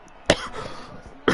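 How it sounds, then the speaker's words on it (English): Two sharp, close coughs come about a second apart, with quiet noise between them. "thankfully I'm starting to cough now instead of like 5 laps in"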